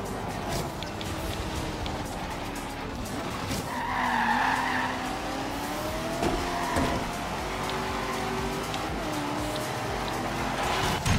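Tires of a Corvette squeal and skid through a slide in the racing game Forza Horizon 3, a sustained screech layered over the roaring engine with shifting pitch, loud and continuous throughout.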